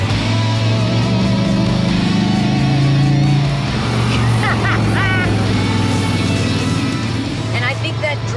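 A 1972 De Tomaso Pantera's combustion engine drones loudly on the move, its pitch holding then dropping as the car shifts, with people talking over the engine noise from inside the car.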